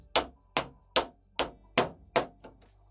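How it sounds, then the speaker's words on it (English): Hammering on a part of a CNC machine enclosure being fitted: six sharp, loud metallic strikes about every half second, each with a short ringing decay, followed by fainter light knocks at the end. "If you don't have a hammer, anything's a hammer."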